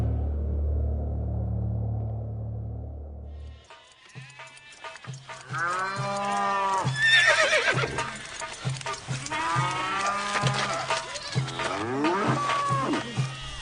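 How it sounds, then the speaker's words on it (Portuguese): Cattle low repeatedly from a farm setting, with long mooing calls mixed with other livestock sounds and a possible horse whinny. A low rumbling opening gives way to layered animal calls at moderate distance. "Os egípcios levaram a José cavalos, ovelhas, cabras, bois e jumentos"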